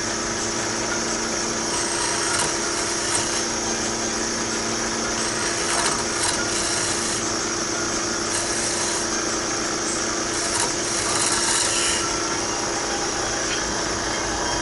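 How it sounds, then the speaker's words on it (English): A detail gouge carves into a wooden wine stopper on a lathe, giving a steady, continuous scraping and cutting hiss that runs throughout at an even level with no talking. "let me get my detail gouge and see if I can get a little cleaner cut with this"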